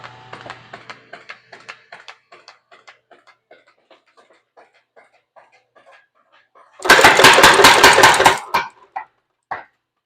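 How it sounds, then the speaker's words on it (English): A power hammer in a blacksmith shop starts with scattered light taps, then a burst of rapid, loud, closely spaced blows for about a second and a half, followed by a few isolated strikes as it slows. "So you can see the hammer runs super fast"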